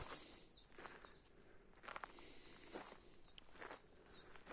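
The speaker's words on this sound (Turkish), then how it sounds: "Kuş seslerine bakın." Birds chirping and singing in the countryside during cold early spring, with repeated short calls over an outdoor background and occasional rustling footsteps nearby.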